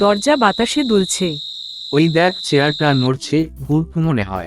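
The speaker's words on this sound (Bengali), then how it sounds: "বাড়ির ফটকে ঝিঝি পোকার ডাক" Crickets chirp at the gate of a house at night as a thin, steady high trill running beneath close, continuous conversation between people that dominates throughout.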